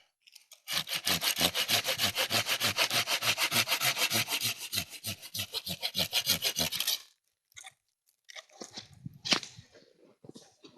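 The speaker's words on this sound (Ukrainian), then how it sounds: "Японська пилка. Зараз я покажу, як вона ріже." A Silky F180 Japanese pruning saw cuts through a garden branch with about twenty-five fast, even push-pull strokes, each a rasping, woody scrape, then stops abruptly; a few scattered knocks and a brief rustle follow.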